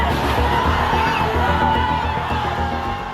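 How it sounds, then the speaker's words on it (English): A large crowd of Gen-Z protesters in Nepal shouts, whoops and cheers in a continuous dense roar as demonstrators surge toward Parliament, loud and enveloping with no single voice standing out. "And the crowd surges towards Parliament."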